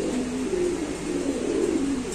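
A black lace pigeon in a loft coos close by, a steady low, rolling coo repeated in quick succession without pause.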